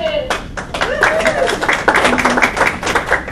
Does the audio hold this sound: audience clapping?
yes